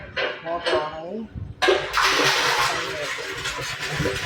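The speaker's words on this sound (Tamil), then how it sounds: "மோட்டர் ஆன் ஆகி" A water tank motor pump switches on abruptly after a voice, followed by a steady broadband rush of water flowing close by, continuing loudly to the end.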